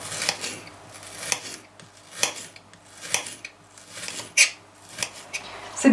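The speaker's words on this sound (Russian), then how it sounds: "Нарезать его будем вот так вот перышками." Rhythmic knife chops slicing an onion on a cutting board, about one crisp slice every second, close and moderately quiet.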